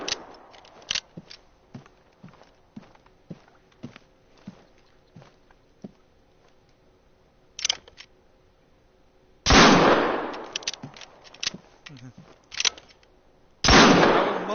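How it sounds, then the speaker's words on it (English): Gunshots in the hunting game theHunter: Call of the Wild, a scattered run of sharp single cracks early on, then two loud, longer blasts that ring out and decay, fairly close. "Someone shooting in his house."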